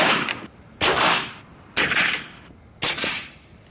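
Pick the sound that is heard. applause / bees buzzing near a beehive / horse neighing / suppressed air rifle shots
suppressed air rifle shots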